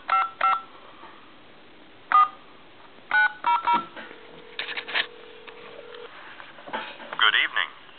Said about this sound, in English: I'm going to dial a time and temp number.